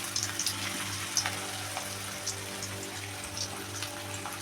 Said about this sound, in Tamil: நம்ம கோபியை பொரிக்க ஆரம்பிச்சிடலாம்.